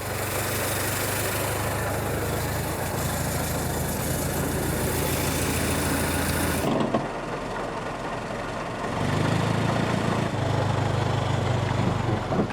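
Crank-started engine of a 100-year-old Audi Type C Alpine Victor runs steadily at close range, a continuous low rumble with a brief change in tone midway before settling back into a steady idle.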